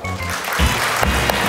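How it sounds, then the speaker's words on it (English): An audience at a celebrity science show claps in a burst of applause, a fairly loud, even patter of many hands with a few sharper claps near the end. "Let's have a big applause for them."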